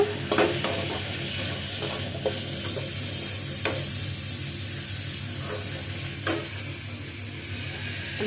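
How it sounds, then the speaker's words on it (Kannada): Raw spice masala for egg curry frying in a pan, a steady close sizzle with scraping stirs and occasional sharp clicks of the spoon against the pan. "ಇದೆಲ್ಲ ಫ್ರೈ ಮಾಡ್ಕೊತೀನಿ ನೋಡಿರಿ"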